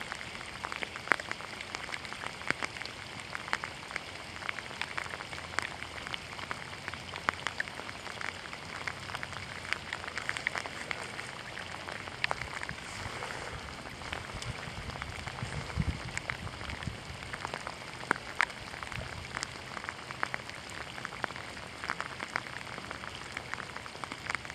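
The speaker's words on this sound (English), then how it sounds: "The rain's coming down even harder now." Heavy rain pours steadily during a saltwater fishing outing with shrimp bait, a dense continuous patter of drops striking nearby surfaces with no voices, lasting throughout.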